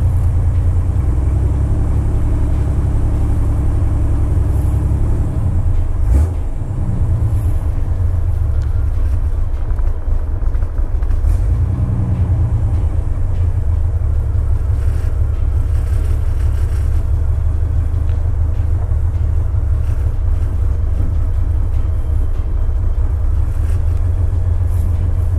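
A Jeep Wrangler YJ engine idling steadily after weeks of not running, a loud low continuous rumble with slight surges throughout.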